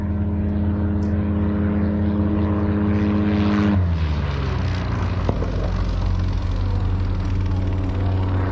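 A Husky light airplane at the 2021 High Sierra Fly-in STOL drags, its engine and propeller making a loud, steady close drone that drops in pitch partway through, with no talk.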